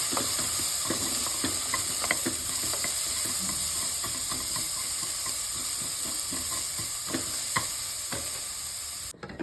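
Tofu and fenugreek leaves roast with turmeric in a pan, giving a steady close sizzle broken by frequent scraping and tapping strokes of a spoon stirring the mixture.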